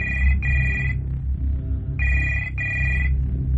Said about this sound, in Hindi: यहां पर हर रात रूम नंबर 113 से फोन आता है